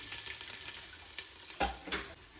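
Onions fry in a pot on a gas stove during mutton biryani cooking, giving a faint, steady sizzle with a couple of brief stirring scrapes near the end.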